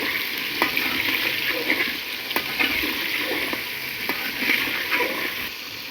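Sliced potatoes fry in hot oil with salt while being stirred: a steady, close sizzle with repeated scraping clicks from the stirring, and no talking.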